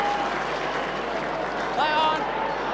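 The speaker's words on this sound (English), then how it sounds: "a nice round of applause for the veteran as well" Stadium crowd applause and cheering for a veteran footballer leaving the field at an Australian football match, West Coast v St Kilda in 2008, a steady roar with a whistle and commentary running over it.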